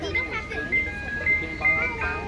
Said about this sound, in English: I like ice cream trucks too.